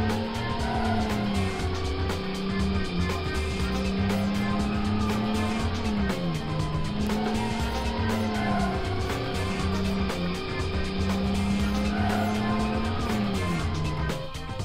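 Toy race car modeled on McQueen running around a toy circuit, a continuous buzzing motor whine with rising and falling pitch sweeps as it rounds the track, steady and close with no talk.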